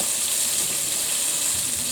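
Floured chicken pieces sizzle in hot oil while cooking sweet and sour chicken in a school kitchen, a steady, close, hissing fry with no talk over it.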